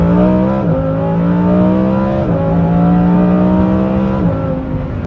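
A Lamborghini Huracan Performante with a Kline exhaust accelerates hard, its loud, close engine note climbing through gears with brief dips at each of several upshifts.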